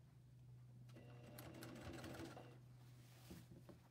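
A sewing machine runs a quarter-inch shoulder seam on a shirt, a close, steady motorized whir with rapid needle ticking that swells in the middle and then eases off, heard alone.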